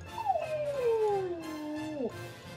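A dog howls once in a long sliding wail that drops in pitch over about two seconds, fairly quiet and close, with no talk over it.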